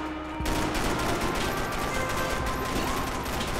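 Rapid, continuous gunfire bursts in Max Payne 3, starting abruptly and holding loud and dense throughout.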